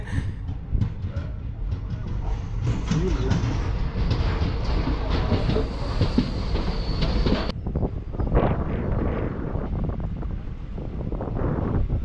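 A passenger train on the Chennai to Palani route in India rumbles steadily along the rails, loud and close, with wind buffeting the microphone and brief squealing, then the sound shifts abruptly partway through.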